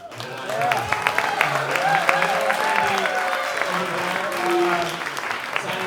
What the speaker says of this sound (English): One more round of applause. Instrumenthead.